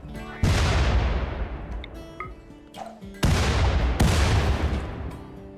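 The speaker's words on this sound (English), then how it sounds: "throw grenades on them" Grenades going off in RimWorld: three loud, close booms land in sequence, each with a sharp attack and a long rumbling decay, separated by quieter stretches of small game sounds and pings.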